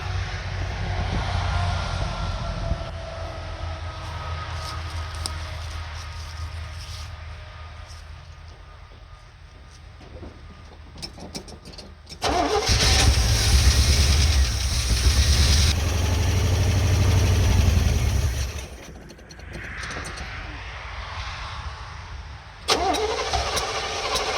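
An old field-find car engine is cranked after fuel is fed to it, a quiet rough stretch giving way to a loud roaring run that then drops back, before another burst near the end.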